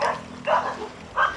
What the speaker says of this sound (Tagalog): Madaming aso. Nangahabol yung aso dito.